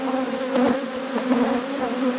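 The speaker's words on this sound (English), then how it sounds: "We'll shake these bees off." Honey bees used for commercial California almond pollination hum in a dense, steady drone, close by, with the pitch wavering slightly as individual insects move around.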